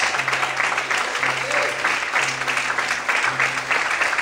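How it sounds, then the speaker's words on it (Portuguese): Church congregation applauding the Lord, an even, fairly loud patter of many hands with a recurring low musical tone, likely a keyboard, pulsing underneath. "Pode aplaudir ao Senhor, queridos."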